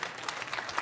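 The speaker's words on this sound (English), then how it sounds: "you can clap for that if you want" A church congregation claps at a Palm Sunday service, a faint, short burst of scattered applause heard from a distance.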